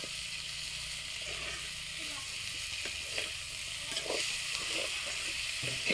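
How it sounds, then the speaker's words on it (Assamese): Potatoes frying in a pan alongside bitter flowers, a steady soft sizzle and hiss with occasional stirring clicks and scrapes, close and moderately quiet. "এই তিতা ফুল কিনাৰতে এনেকৈ ভাজি ল'ব"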